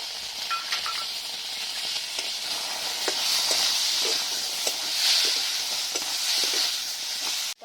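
Ground ginger and cumin spice paste hits a hot pan for a cabbage curry, bringing a moderate, continuous sizzle and hiss broken by small clicks of stirring, with no voices.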